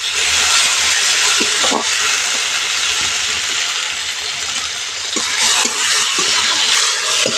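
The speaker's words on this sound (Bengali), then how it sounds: "টমেটোটা হালকা করে ভেজে নিয়েছি" Chopped tomato sizzling in hot oil in a pan over whole cumin and dried chilli, a steady loud hiss with a few brief clinks of a utensil, no talking.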